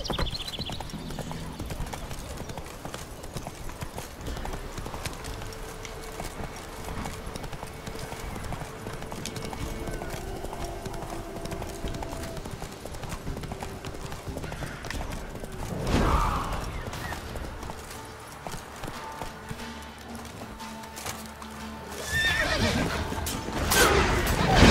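Roach the horse trotting and neighing in The Witcher 3, steady rhythmic hoofbeats running through the scene with a distinct whinny around the middle, game ambience and a brief spoken line alongside.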